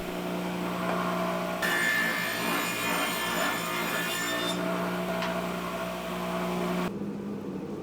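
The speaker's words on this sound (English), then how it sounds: "then run that piece through the table saw" Table saw cutting a thin wood strip for a military flag shadow box, a loud continuous motor whine with a higher rasping tone while the blade cuts through the middle, then the pitch shifts as the cut ends.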